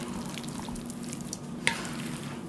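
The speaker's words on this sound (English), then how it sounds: "we're just going to gently stir it" A big bowl of hot potato salad is gently stirred to coat it in mayonnaise, making a soft, wet, squelching mix with faint clicks and one brief louder knock, close by with no voices.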